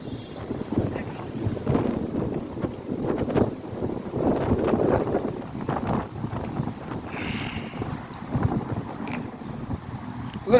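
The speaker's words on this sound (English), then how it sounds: "A little windy out, not too bad." Wind blowing outdoors on a city street at the scene of a single-car accident, gusting and buffeting steadily against the microphone as a continuous rumbling rush with no voices.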